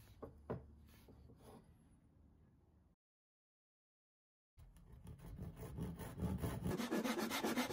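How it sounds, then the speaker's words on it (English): A mortise gauge scribes marks 10mm in along the edges of a wooden stool brace, giving soft scraping and rubbing strokes, then a brief silence before louder, denser scratching. "I'll now scribe a mark 10mm in on all the edges using a mortise"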